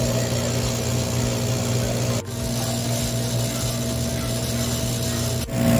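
A V3000 Plus laser cutter making its second cutting pass after the power was set, a steady machine drone with a constant hum that carries on alone, briefly dipping twice.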